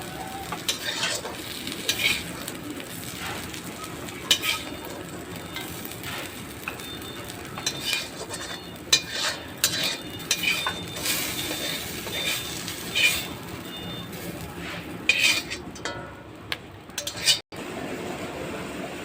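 Khesari (grass pea) greens fried with ginger and rice-flour paste sizzle in a pan while a utensil stirs and scrapes now and then, a continuous close frying hiss with small clatters.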